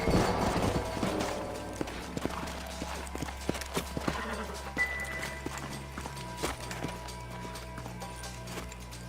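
Horse hooves clip-clop on hard ground in the video game Red Dead Redemption amid scattered clanks and movement, with a low rumbling background and occasional sharp knocks.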